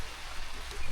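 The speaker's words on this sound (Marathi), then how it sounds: "पाऊस आला, पावसाला जोर आहे" Heavy rain pouring on a farm in the Konkan countryside, a dense steady hiss of falling water close by, filling the moment without a break.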